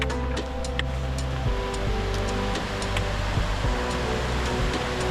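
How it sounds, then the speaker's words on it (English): A waterfall in the snowy Sierra Nevada, on a spring hike toward Temple Crag, rushes as a steady, dense broadband roar with no pauses, accompanied by a faint low droning hum. "Got the waterfall."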